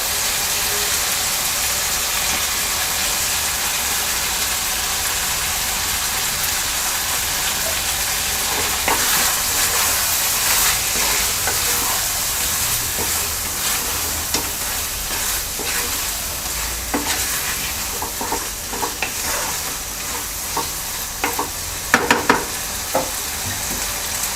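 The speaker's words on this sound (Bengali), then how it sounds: "এবার আমরা এর সাথে ডালটা দিয়ে আরও পাঁচ মিনিট কষিয়ে নেবো" Rohu fish head and moong dal fry in a pan with a steady, loud sizzle, while a spoon scrapes and stirs in repeated clattering strokes that grow busier toward the end.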